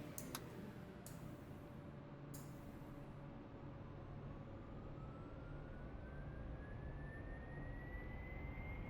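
Turboprop engine spool-up of a Saab 340's right engine in the X-Plane 11 flight simulator, a steady whining hum that rises slowly in pitch over a constant drone, with a few sharp clicks near the start.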